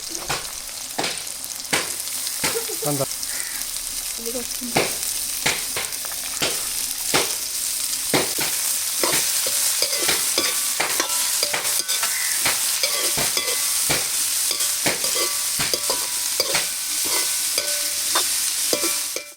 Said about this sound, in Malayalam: ഇനി നമ്മൾ നേരത്തെ കട്ട് ചെയ്ത് വെച്ചിട്ടുള്ള പച്ചക്കറികൾ ഓരോന്നായിട്ട് നമ്മൾ ഓയിലിലേക്ക് ഇട്ട് കൊടുക്കുക.